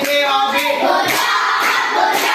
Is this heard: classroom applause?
yes